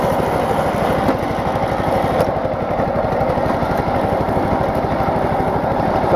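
A brush mower's small engine runs at low idle, throbbing with a steady, rapid putter that sounds loud and close, alone and unchanging throughout.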